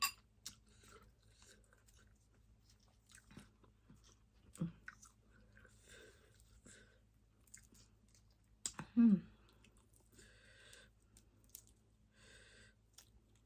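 Someone eating shrimp dipped in a spicy seafood sauce, quiet close-up chewing and biting with a louder crunchy bite near the middle, soft clicks and faint background noise.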